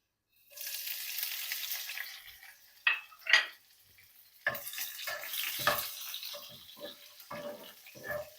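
Green chilies, some broken in half, frying in a pan for baingan bharta (brinjal mash) give a steady close sizzle with several sharp pops and clatters of stirring. No one speaks.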